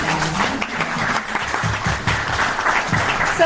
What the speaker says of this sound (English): a big applause for you guys